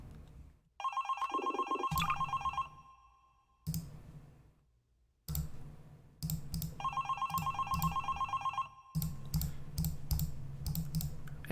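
Telephone rings repeatedly inside a Source-engine game map, bursts of ringing alternating with short gaps and clicking, fairly quiet overall with no talk.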